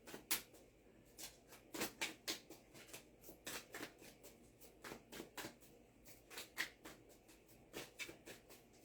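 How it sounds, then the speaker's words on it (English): A tarot deck is shuffled by hand close up during a full moon Aquarius reading, with quiet, repeated riffling bursts and short pauses between them. "See how I'm shuffling?"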